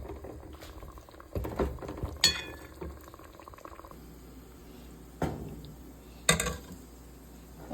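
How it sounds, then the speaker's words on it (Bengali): Pumpkin being tempered with onion and cumin in hot oil: a soft, steady bubbling sizzle, with a few sharp utensil clacks and taps over the quiet frying and no talking. "দেখেন আমি যে মিষ্টি কুমড়ার মধ্যে এখন বাগার দিতেছি, পেঁয়াজের আস্তা জিরে দিছি একটু।"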